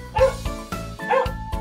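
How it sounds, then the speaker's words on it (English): Dog barking in a children's song, two or three bright, toy-like barks spaced about a second apart, close and loud with a musical tone behind them. "Dog."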